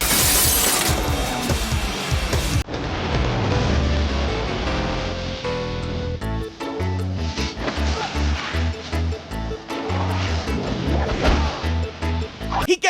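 A glass window shatters loudly as someone dives through it in a horror movie action scene. A burst of breaking glass comes first, then dramatic score and crashing effects continue throughout.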